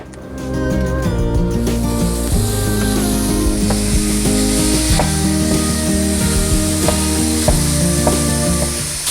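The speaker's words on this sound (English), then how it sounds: "I have heated this to medium-high heat. I'm gonna add in a pound of ground beef" A pound of ground beef sizzles in a 5.5-quart pot on medium-high heat, a bright, busy crackle that fills the scene from start to end, with faint tonal hum in the background and no speech.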